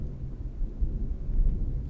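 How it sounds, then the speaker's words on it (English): Loud thunder during a rainstorm rolls as a deep, continuous rumble that swells toward the middle and stays heavy throughout, with no voices. "That's some loud thunder right now."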